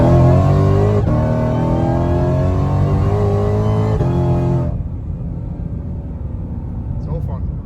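A 2020 Ford Shelby GT500 pulls hard, its engine note climbing through a loud close-up rev for several seconds before cutting off abruptly, leaving quieter cabin rumble.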